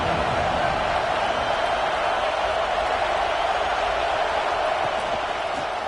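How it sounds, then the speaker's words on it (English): Steady roar of a large crowd at a college football game, a constant wash of cheering and chatter with no breaks, filling the stadium at a loud, even level. "This crowd bringing the energy and noise early."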